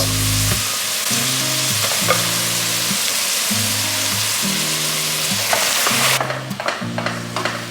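Minced meat for moussaka frying in a pan, a loud continuous sizzle close up with repeated scraping stirs and a low rhythmic hum pulsing underneath, with no voices.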